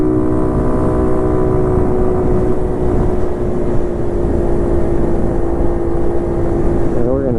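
A Honda CT70-style 125 cc tribute minibike engine hums loud and steady while riding, its tone holding with a slight shift near the end, heard up close over wind.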